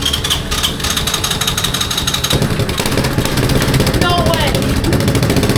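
An old three-wheeler ATV that sat unused for 8 years, choke applied, fires up and settles into a loud, rough, close idle, while a person exclaims over the engine noise.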